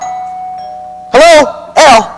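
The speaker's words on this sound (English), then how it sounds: "That's the doorbell, dear, not the telephone." A two-tone doorbell chimes twice in a quiet room, each ding-dong loud and ringing briefly, following a faint steady tone in the background.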